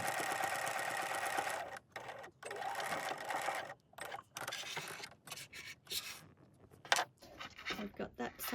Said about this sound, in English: I'm going to stitch the back side this time this way.